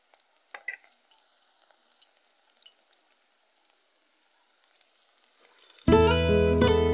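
Duck meat hits a hot pan of browned onion with ginger and garlic, erupting into a loud, sudden sizzle after near silence broken only by faint clinks and taps.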